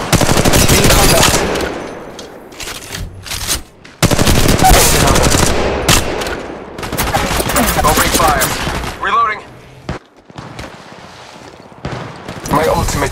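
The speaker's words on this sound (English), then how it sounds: "Shots fired and they're hitting me." Rapid automatic gunfire from the mobile battle royale shooter Apex Legends Mobile, loud and close in dense bursts with brief pauses, mixed with game effects and character voice callouts.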